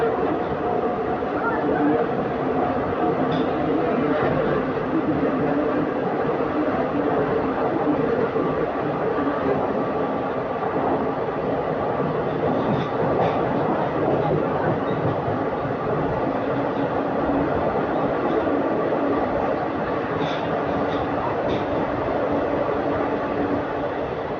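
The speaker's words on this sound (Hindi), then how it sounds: "पूरा 16 मिनट की देरी के साथ अपनी ट्रेन आगे रुकी है बोरीवली स्टेशन" Gujarat Superfast Express train at Borivali station, a steady loud rumble of rolling coaches carrying on for over twenty seconds with faint clatter, people talking in the background.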